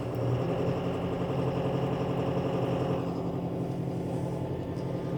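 A John Deere 5E utility tractor engine runs steadily at low speed inside the cab, giving an even, continuous low rumble with no talk.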